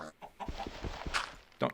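Chicken clucking in Minecraft, a quick series of short clucks and bursts close up, alone without talk.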